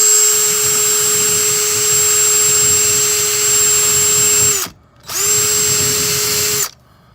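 A power tool knocks loose rust and flaking paint off a car body, giving a steady, loud high-pitched motor whine in a long run. It cuts out briefly, then runs again before stopping.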